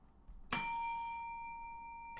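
A single bright bell strikes once loudly and rings on with a long, slowly fading metallic tone, followed by a faint second tap at the very end.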